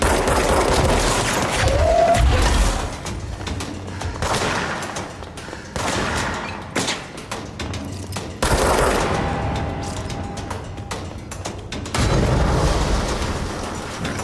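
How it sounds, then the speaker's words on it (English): Gunfire in the video game Control: sustained volleys of automatic shots and heavy booming impacts, loud and close, coming in clustered bursts separated by brief lulls, with no talking over them. "Who's shooting me?"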